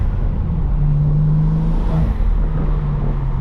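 BMW M3 with an illegal exhaust running with its exhaust valves closed, a steady low engine drone with a sustained tone, heard from inside the car at night, loud and continuous with no talking.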